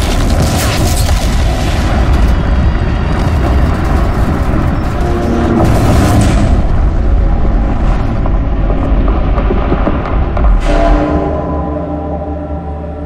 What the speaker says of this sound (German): Wenn man es dann doch geschafft hat, explodieren alle C4-Sprengsätze gleichzeitig und in Echtzeit.